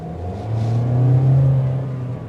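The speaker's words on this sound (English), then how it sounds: "To give her a little go." A 2023 Toyota Corolla Cross XLE accelerates from a stop, its engine note swelling and rising steadily and then easing slightly over a couple of seconds, close and clear with no voices.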